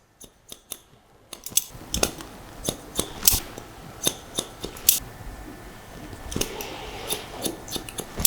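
Scissors snip through a section of hair in a salon cut, a steady series of sharp, close metallic clicks at an even rhythm, with no one speaking.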